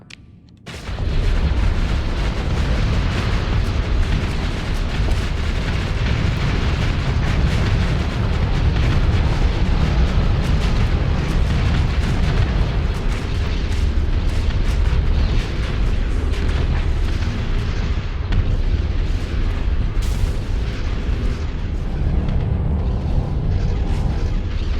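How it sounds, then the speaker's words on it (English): Missile salvos launching and exploding during a Starsector space battle, a damaged ship firing only some of its missiles, a loud sustained roar of blasts and rumbling impacts that fills the whole stretch after a brief quiet start. "Only half my missiles are firing too, because of the damage."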